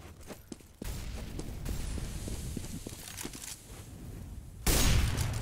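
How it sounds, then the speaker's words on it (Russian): Counter-Strike match on dust2 with an AWP sniper rifle shot among sharp gunfire cracks and footsteps, ending in a loud blast of firing, clear and close, no speech. "Прицельный выстрел с АВП"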